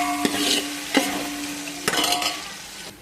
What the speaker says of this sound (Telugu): ఇలా కలుపుకోవాలి మనం.